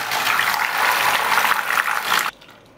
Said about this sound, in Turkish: bunun içerisine şöyle bir bardak buz gibi soğuk su ya da bir bardak buz da koyabilirsiniz